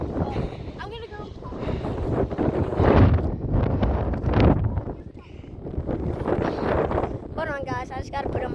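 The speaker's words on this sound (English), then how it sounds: "But it's still very windy." Strong wind buffets the microphone outdoors on a windy day, rumbling and fluctuating throughout in heavy gusts, with occasional faint sounds in the background.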